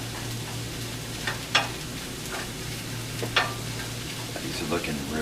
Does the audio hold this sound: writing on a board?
no